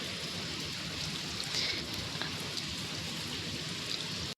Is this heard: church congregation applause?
no